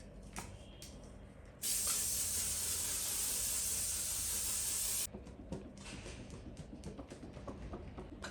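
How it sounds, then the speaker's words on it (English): A bottle of makeup setting spray misted onto a face, giving one continuous, close, bright hiss that lasts about three and a half seconds against a quiet room. "instead I'm going to seal everything with my locking mist Seal It"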